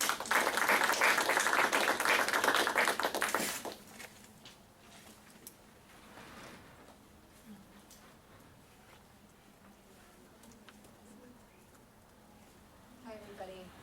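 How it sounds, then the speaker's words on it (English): A small audience claps briskly for a presenter named Ian for about three and a half seconds, then the room falls to a quiet murmur with faint rustling. "So give Ian a round of applause."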